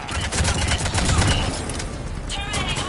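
Rapid gunfire from the video game Mass Effect 3 rattles in dense, continuous bursts, loud and close, in a busy firefight with a voice heard faintly beneath it.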